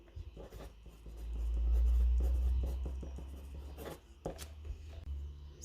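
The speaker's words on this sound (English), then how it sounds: "So using coloured pencil and the hatching technique, this is the sort of effect you're going to get" Coloured pencil hatching on paper: a steady series of short, dry scratching strokes, close and fairly quiet, repeated in quick rhythm with a low background hum and no talk.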